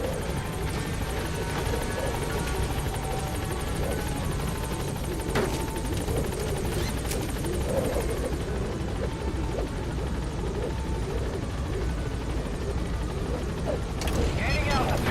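A support helicopter in Metal Gear Solid V: The Phantom Pain hovers at a landing zone, its steady rotor thrum loud and continuous throughout, with radio voices and game sounds over it.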